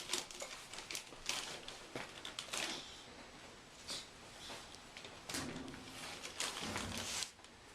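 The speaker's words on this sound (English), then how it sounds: "Now you just grab it there. Good. Come on, just rip that paper" Wrapping paper on a present being torn open, a series of loud crinkling rips and rustles in uneven bursts, close by, with brief pauses between tears.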